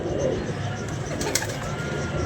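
Low, continuous cooing from a group of pigeons kept for flying, close and steady, with a short bright click partway through and no talking.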